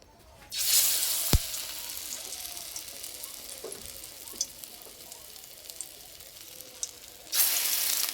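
Egg and potato snacks sizzle and hiss in hot oil in a wok, a steady close frying crackle with a few sharp pops and a louder burst near the start and end.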